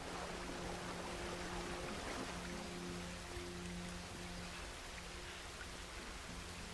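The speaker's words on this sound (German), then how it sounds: "Jetzt fängt es wieder an zu regnen" Steady rain falls in the video game Red Dead Redemption 2 during a stormy spell, a dense continuous hiss of drops with a faint low hum underneath and no talk.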